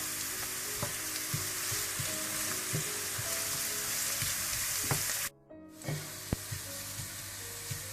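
Browned onions frying in desi ghee, a dense continuous sizzle with regular clinks of a stirring spoon, briefly cut off near the end before the sizzle resumes.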